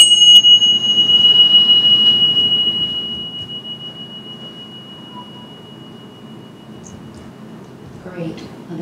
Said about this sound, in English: on the exhale, I'm going to ring the chime